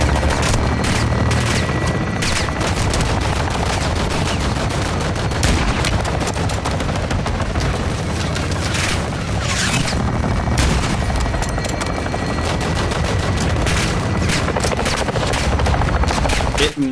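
Dense, continuous gunfire fills a Modern Warfare 2 Remake mission after a target is marked, with rapid machine-gun bursts, heavy booms and a helicopter rotor, all loud and close.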